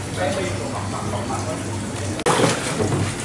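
Water trickles and splashes steadily from a small garden water feature with bamboo in front of a Central Vietnamese restaurant, a continuous near, moderately loud flow, briefly cut by a sharp break, with voices faintly underneath.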